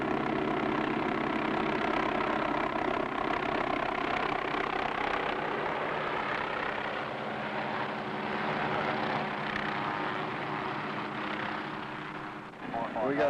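Firefighting helicopter working a forest fire, drawing water from a milling pond, a steady, loud rotor and engine drone that holds throughout, with speech over it.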